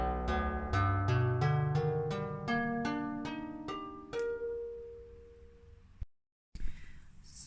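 A synthesizer preset called Basic Flange plays a run of about a dozen evenly spaced notes stepping through a melody, bright and swirling, then a held tone fades, followed by a brief cut and a short burst.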